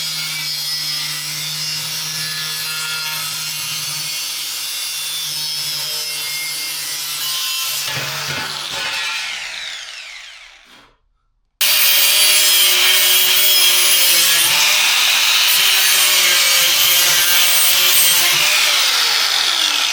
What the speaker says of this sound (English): what I'm gonna do is I'm gonna put it on the vise. I'm gonna just start cutting